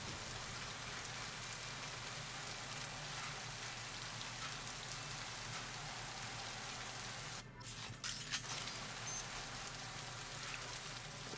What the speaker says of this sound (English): Lovely, cool, rainy, thundery place.